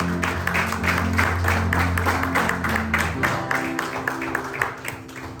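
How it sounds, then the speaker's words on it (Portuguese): A church congregation applauds vigorously during a worship service, a continuous mass of clapping carried over sustained music and voices for several seconds. "Aplauda o Senhor fortemente."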